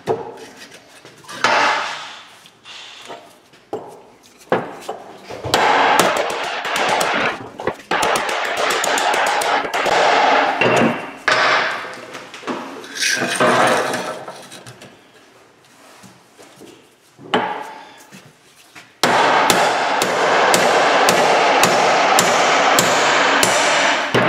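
Heavy hammer blows drive a U-joint out of an aluminium driveshaft, sharp metallic strikes in irregular bursts and rapid runs, loud and close, with no talking.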